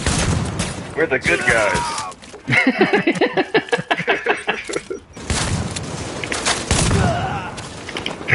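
Rapid bursts of gunfire and heavy booms from a shotgun fight in the video game The Division fill the scene, mixed with game sound effects while someone talks over the shooting.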